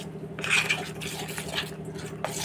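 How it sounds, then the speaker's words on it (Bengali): Batter for fish fry is whisked steadily in a bowl, making a continuous close scraping and swishing clatter with a faint background hum. "ব্যাটারটা ঠিক এইভাবে আমি ফেটিয়ে ফেটিয়ে বানিয়ে নিচ্ছি"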